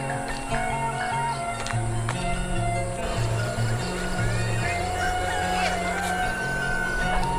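Chickens cluck and a rooster crows amid a busy outdoor soundscape, with faint human voices in the background.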